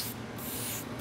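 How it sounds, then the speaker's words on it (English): An airbrush sprays colour onto a tiered cake as a steady, close hiss of air, running through the short moment with a brief gap partway and no talking. "The tricks I've learned through airbrushing classes and seminars is to start and stop, and don't continuous spray."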